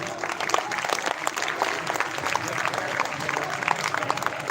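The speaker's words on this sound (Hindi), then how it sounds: "साथियों, एक बार जोरदार तालियां।" Loud, dense applause from a crowd of striking government employees at a Rajasthan protest gathering, sustained clapping from many hands throughout with a crowd murmur mixed in.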